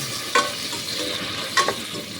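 Shrimp sizzle in a hot pan as they are sautéed with mussels and corn, giving a steady frying hiss with two sharper scrapes of stirring, close and moderately loud.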